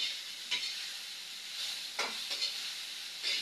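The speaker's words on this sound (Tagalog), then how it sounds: "Gisa natin ng kunti." Takway (taro runners) sautés in a pan with a continuous close sizzle, broken by several brief scraping stirs.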